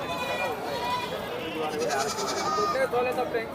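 Goats bleat in wavering cries close by, mixed with people talking over a noisy outdoor background at the Mydukur sheep and goat market.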